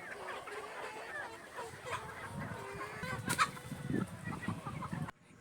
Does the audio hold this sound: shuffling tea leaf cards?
no